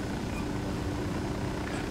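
Helicopter rotor and engine in the video game Ghost Recon Wildlands, a steady low thrumming drone that fills the whole stretch at moderate level, with no voices over it.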